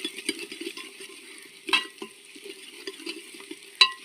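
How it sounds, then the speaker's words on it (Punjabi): Spices with crushed coriander and dried fenugreek frying in a pan: light sizzling under a few soft spoon taps and scrapes, close by and fairly quiet, with a couple of sharper clinks. "ਹੁਣ ਇਹਨਾਂ ਚੀਜ਼ਾਂ ਨੂੰ ਚੰਗੀ ਤਰ੍ਹਾਂ ਫਰਾਈ ਕਰ ਲਓ"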